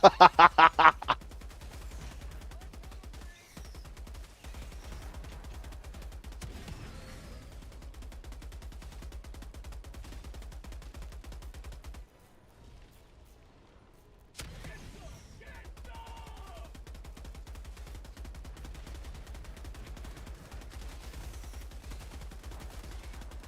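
A video game weapon firing AP rounds lets off a short, very loud burst of rapid shots at the start, followed by a long stretch of low mechanical hum with faint clicks and a brief near-silent gap.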